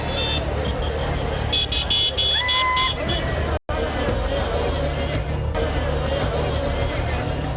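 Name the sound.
street traffic jam with honking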